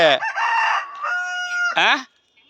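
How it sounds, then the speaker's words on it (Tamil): A large fighting rooster crows up close, a loud, strained cock-a-doodle-doo lasting about two seconds, with a short clucking burst at the end before falling quiet. "பெரிய சேவலாக தான் இருக்கு"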